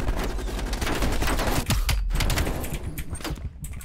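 Rapid gunfire in the Call of Duty Cold War campaign, dense bursts of automatic shots and reports crowding together loudly and continuously, with a brief lull near the middle.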